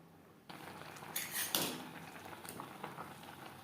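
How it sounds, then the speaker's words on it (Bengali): Rice boils in a pot for egg biryani, a soft continuous bubbling and patter that starts abruptly, with a few brief louder bursts of bubbling and light pot clatter, close but fairly quiet. "চাল বেশ ভালো করে ফুটতে শুরু করে দিয়েছে"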